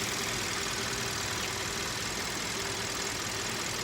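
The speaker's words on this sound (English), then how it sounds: "you can hear the car's running, but it's a pretty quiet motor" A 2015 Kia Optima EX engine idling quietly, a steady low hum and faint mechanical rumble that holds constant with no one speaking.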